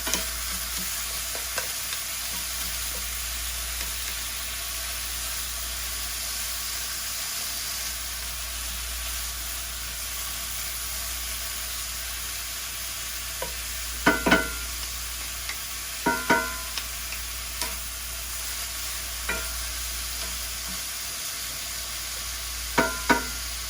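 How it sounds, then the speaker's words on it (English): Ground beef frying in a pan makes a steady, loud sizzle throughout, and a few sharp scraping knocks near the end as the meat is broken up, close by and without speech. "So we're gonna start breaking up the ground beef."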